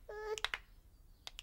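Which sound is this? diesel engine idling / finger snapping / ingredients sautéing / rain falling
finger snapping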